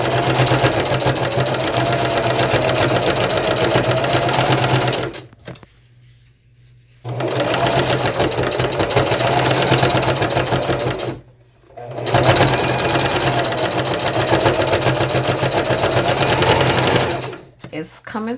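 Sewing machine stitching pieces of a denim patchwork bucket hat, running in three long, steady, rattling bursts separated by short pauses, loud and close.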